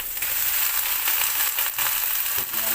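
A constant, loud sizzle as alugbati leaves are stirred into sardines frying in a pan, with a few soft scraping stirs and no talking.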